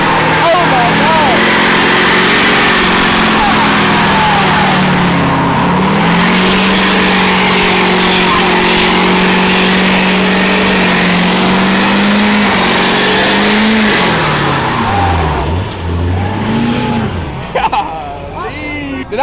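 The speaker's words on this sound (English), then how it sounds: "Did I just hear you try to do a burnout?" A lifted, air-bagged Chevrolet Silverado 1500 pickup engine roars loudly and steadily, then revs hard in a burnout attempt, pitch sweeping up and down before easing off near the end.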